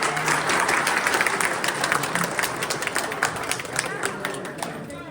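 An audience at a combined Eid reunion, freshers' welcome and Bengali New Year celebration applauds the organizer team, a dense burst of clapping from many hands that holds steady and then tapers, with voices talking over it.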